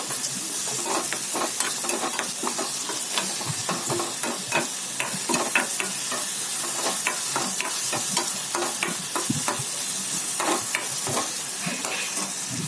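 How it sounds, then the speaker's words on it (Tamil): Onion sautéed with ginger garlic paste in a pan gives a loud, continuous sizzle, broken by frequent quick spatula scrapes and stirs throughout. "இஞ்சி பூண்டையும் சேர்த்துட்டு நல்லா அந்த பச்சை ஸ்மெல் போகிற அளவுக்கு நல்லா வதக்கி விட்டுக்கோங்க."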